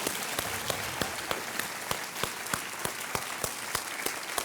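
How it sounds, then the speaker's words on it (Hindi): A television quiz show studio audience applauds steadily, a dense, even wash of many hands with individual sharp claps standing out at regular intervals, sustained throughout without talk. "हम दोस्तों तालियां बजती रहनी चाहिए देवियों सज्जनों"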